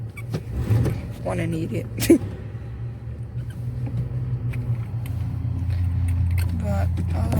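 A pickup truck engine rumbles low and steady nearby, swelling louder toward the end as if revved, while someone talks over it with some short knocks and clatter.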